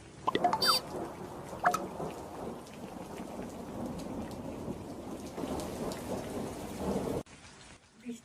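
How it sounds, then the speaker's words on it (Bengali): Steady, dense monsoon rain pours throughout, with a couple of sharp louder hits near the start and no voices. "বৃষ্টি"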